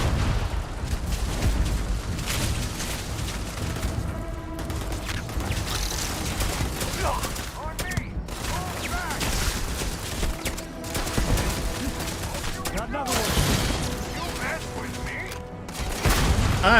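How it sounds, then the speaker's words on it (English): Turret fire in the Starfield space game: repeated bursts of gunfire and booming blasts crackle almost nonstop, loud and dense, with a voice talking at times over the shooting. "Them turrets are freaking annoying."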